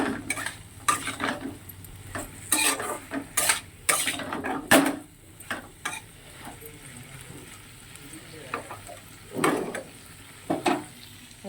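Vegetables fry in a pan with chilli, salt and turmeric. A spatula scrapes and clatters against the metal in uneven bursts over a soft sizzle, with a voice heard briefly in between.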